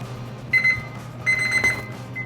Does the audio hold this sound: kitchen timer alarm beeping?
yes